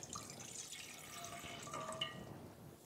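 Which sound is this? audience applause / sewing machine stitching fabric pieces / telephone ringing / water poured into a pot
water poured into a pot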